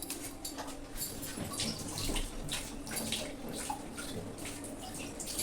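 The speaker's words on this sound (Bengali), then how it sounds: "তো এই দেখুন কাঁচা তেজপাতা আমি একটু ধুয়ে নিই।" Fresh bay leaves rinsed under running water, a steady close splashing stream from a tap with irregular spatters as the leaves are turned under the flow.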